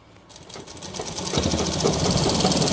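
Sewing machine stitching a shirt collar, starting quietly then running up to a steady fast mechanical whir and rattle, close and continuous.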